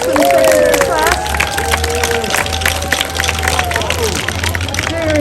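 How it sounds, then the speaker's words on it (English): Audience at a school winter festival gives a round of applause for a second grade class performance, steady crowd clapping and cheering that stays loud throughout, with voices mixed into the noise. "let's give another round of applause for Senor Reyes' awesome second grade class."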